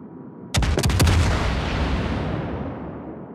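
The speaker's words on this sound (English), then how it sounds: "Concentrate fire on the enemy warship." World of Warships naval guns firing at an enemy ship in a tier 10 clan battle: a sudden salvo of several heavy booms in quick succession, then a long, loud rumbling roar that slowly dies away.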